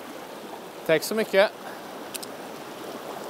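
A fast-flowing stream on a trout river, where people go dry-fly fishing, gives a constant rushing wash in the background, while someone speaks briefly over it near the start.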